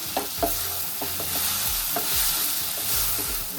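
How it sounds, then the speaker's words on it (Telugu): Ginger garlic paste frying in a pan for chicken curry, a loud continuous sizzle with rhythmic scraping stirs of a spoon against the metal, close by and without talking. "వేసుకున్న అల్లం వెల్లుల్లి పేస్ట్ని బాగా కలిపి బాగా ఒక 5 minutes వరకు ఫ్రై చేసుకోవాలి"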